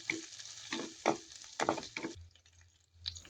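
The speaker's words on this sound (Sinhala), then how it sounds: "ඉඟුරු සුදු ලූණු බැදිලා සුවඳ එනකොට රම්පේ කරපිංචා ටිකත් එකතු කරගන්නවා. එකතු කරලා ටෙම්පරාදු කරගන්නවා." Curry leaves and pandan hit frying ginger and garlic for a fish curry, making a soft sizzle broken by several stirring strokes, then a quieter, low crackle; close and fairly faint.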